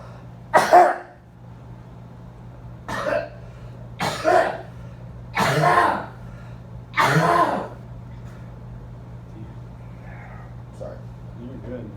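Several harsh coughs, one double burst then single hacks spaced a second or so apart, close to the listener over a low steady hum.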